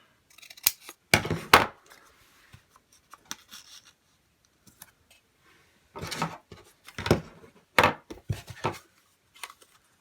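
Scissors snip a small piece off a paper sketch layout, with a few quick cuts near the start and another run of crisp snips later, close and clear in a quiet room, no talking.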